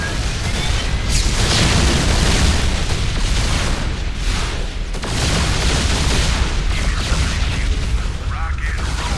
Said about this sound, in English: A popular choice is the Yamato cannon, which does significant damage to single enemy targets.